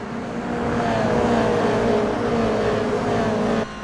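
A Toyota GR86 race car in iRacing droning steadily at high revs, its engine tone sliding downward through a downshift before cutting off near the end, close and loud with no voices.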